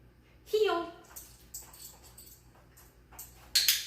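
A dog whimpers and yips in short high, wavering bursts during heel training, the cries rising and falling close by and a few sharper yelps near the end, with faint background noise between them.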